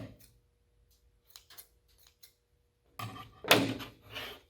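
Scissors snip through a bundle of yarn for tassel earrings, with a couple of crisp, close cuts near the end after faint ticks and light handling noises.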